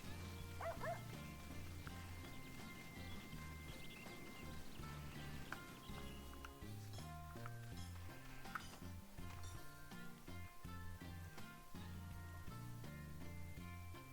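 A puppy barking in the video game Sakuna: Of Rice and Ruin, small yips and whimpers faintly heard beneath steady game music.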